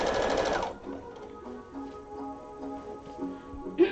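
A sewing machine stitches fabric in a short burst, its rapid dense whirring loud at first, then stopping and leaving quieter ticking and faint background tones.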